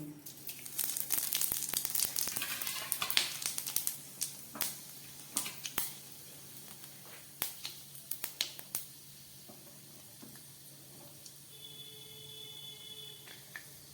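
Panch phoron spices dropped into hot mustard oil crackle and pop, a dense burst of sharp snaps at first that thins into scattered, isolated pops, fairly faint and close.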